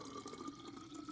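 Water poured into an 18-ounce glass water bottle, a steady, faint trickling splash that runs unbroken through the short moment with no voices.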